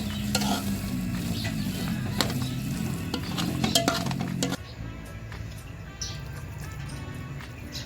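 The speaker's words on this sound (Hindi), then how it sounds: "और इसको इसमें सिर्फ 1-2 मिनट के लिए अच्छी तरह से मिक्स कर लीजिए।" Bottle gourd halwa being stirred in a pan, spoon scraping and clinking against the metal over a soft sizzle, close and steady, the sizzle dropping lower partway through.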